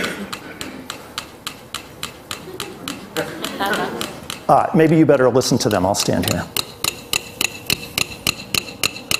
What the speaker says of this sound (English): I've set it on the fastest setting, and I'm going to now take another one set to the same setting